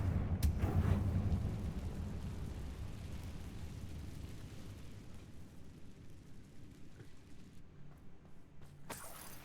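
Confringo blasting spell in the Hogwarts Legacy video game, a sudden loud burst that rumbles and slowly fades over several seconds, with a brief crack near the end.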